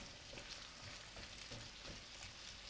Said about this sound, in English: you want to transfer this into the pan as well. I'm just going to put it in. And then give this a nice stir.